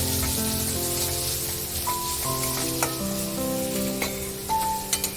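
Onion with turmeric sautés in a pan, giving a steady, dense sizzle with faint tonal clinks and a few scraping stirs throughout.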